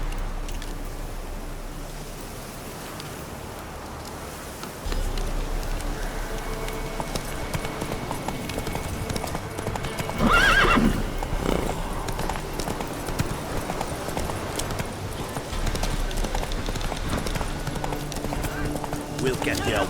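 Roach the horse trotting in The Witcher 3, steady clip-clop hoofbeats with ambient game sound, a brief louder burst near the middle, under a voice talking to the horse.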